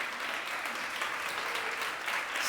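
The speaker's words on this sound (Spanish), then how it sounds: "dele un aplauso al Señor porque Él es bueno" A church congregation claps together, a dense, even wash of applause that holds steady throughout without any voices over it.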